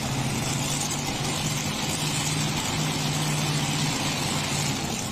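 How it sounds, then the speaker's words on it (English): Triple-blown big block Chevrolet engines in a tractor pull from Larchwood, Iowa roar at high RPM, a dense, steady, loud mechanical drone with a sustained low tone and no voices. "Listen to the RPM on these big block Chevrolets."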